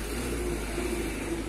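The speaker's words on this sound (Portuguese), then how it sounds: "Tá passando o carro." A car passing on a nearby street, heard as a steady, fairly loud low engine rumble and road noise that holds throughout with no talking.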